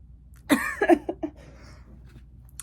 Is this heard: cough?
yes